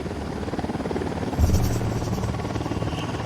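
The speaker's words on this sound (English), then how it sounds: "Unidad chopper, stay low." A helicopter in Ghost Recon Wildlands flies close by with a steady rotor drone and a low thumping swell midway, with no voices over it.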